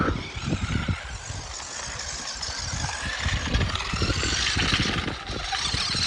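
JJRC Q121 RC trail truck driving fast on its high gearing: a continuous electric motor whir with rumbling, rattling tire and drivetrain noise, fairly close and steady, no talking.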